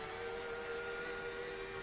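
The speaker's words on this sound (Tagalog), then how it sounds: "Parang vacuum din siya." A USB rechargeable robot floor vacuum cleaner runs with a steady, high-pitched whirring hum, constant and close with no other sounds.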